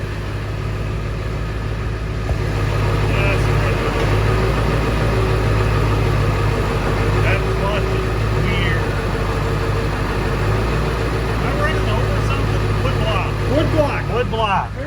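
A 7.3 diesel truck engine with about 233,000 miles runs steadily while backing up, a loud continuous low rumble throughout, with people talking over it.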